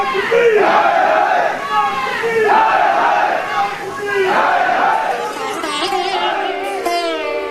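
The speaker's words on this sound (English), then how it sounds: "The WSO crowd cheered him on." Crowd at a 1984 WSO convention cheering a speech, a large mass of voices roaring and shouting in repeated rising surges, loud and continuous throughout.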